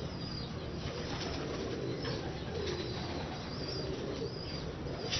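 Ali wale pigeons in Lahore coo softly and steadily over a constant hiss of background noise, with repeated low throaty calls running through the whole stretch.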